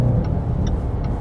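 A 2020 Jaguar F-PACE SVR SUV with a 550-horsepower engine pulls hard up an on-ramp, its engine a loud, steady low drone throughout, with faint periodic chirps above it.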